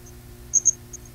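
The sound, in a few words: crickets chirping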